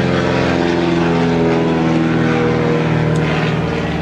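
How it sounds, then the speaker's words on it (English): A bush plane's propeller engine drones steadily and loudly overhead, a continuous harmonic hum holding level for the whole stretch with no talk. "letting the bush plane go by"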